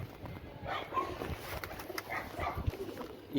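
Racing pigeons on a rooftop coo softly in a few low, rolling calls, faint and somewhat distant, over a quiet background.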